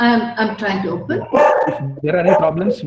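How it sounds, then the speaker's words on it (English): A dog barks and yips in a room at home, close and fairly loud, its barks mixed in with a person talking over a webinar call. "Please excuse my dog."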